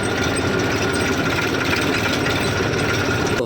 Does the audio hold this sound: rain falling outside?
no